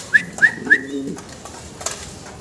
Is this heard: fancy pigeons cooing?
yes